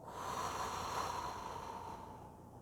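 A slow, steady breath during a sophrology relaxation exercise, a soft airy hiss sustained for a couple of seconds and gradually fading, close and quiet with nothing else around it.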